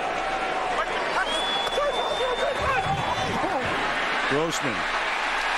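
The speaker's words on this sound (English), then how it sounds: "here comes the crowd again" Crowd at a 2007 NFL game between the Cowboys and Bears, swelling with a rising roar under a commentator's voice, with whistles and brief sharp squeals near the end.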